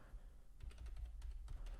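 Computer keyboard typing during a live day-trading session, a few quick bursts of key clicks near the microphone over a low steady background hum.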